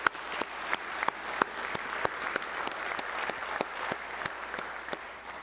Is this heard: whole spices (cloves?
no